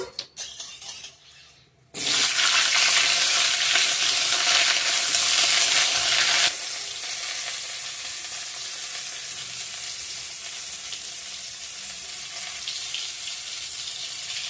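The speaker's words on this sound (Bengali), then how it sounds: "তাকে ভালো করে ভেজে নিব একটু ভেজে দেবো" Loud sizzling of cauliflower frying in a pan, starting abruptly after a quiet moment, with stirring and a steady crackling hiss that eases a little partway through.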